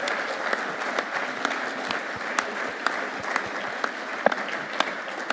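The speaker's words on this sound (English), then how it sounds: "our very own Brolly, O'Rourke and Spillane, give them a big round of applause, please." Sustained audience applause at a conference panel discussion, steady dense clapping throughout with a few sharper claps standing out, moderately near and alone without talk.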